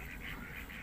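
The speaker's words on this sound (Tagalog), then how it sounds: "Daming duck, oh." A duck on a farm in Tagaytay quacks in a short, faint, raspy burst heard at a distance.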